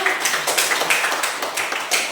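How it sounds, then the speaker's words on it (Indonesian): Students in a Catholic religion class clap together briefly, a close, rapid patter of hand claps with an uneven beat and no talk over it. "Tepuk tangan dulu."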